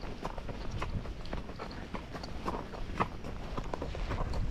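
Horse hooves clip-clop in a steady, overlapping rhythm on an outdoor trail, moderately close against a busy, rustling background.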